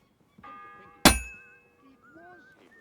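A single loud bell strike in Kingdom Come: Deliverance II, a sharp metallic clang that rings and fades over a second or so, with quieter tonal sounds around it.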